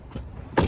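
A car's power window motor whirs briefly, close and fairly quiet, with a short thump as the window seals shut.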